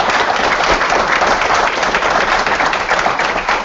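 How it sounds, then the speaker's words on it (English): Audience applause fills the room for a veteran entrepreneur panel at the close of the session, a steady, loud wash of many hands clapping with no talk over it. "let's start off before we close by giving our panel a round of applause and thanking them."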